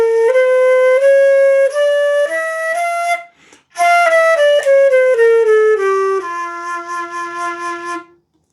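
A jazz bebop scale with an added note between the fifth and sixth played as a clean, bright melodic line, going up and then back down in steady single notes with a short pause in the middle, no talking.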